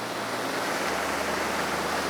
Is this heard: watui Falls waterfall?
yes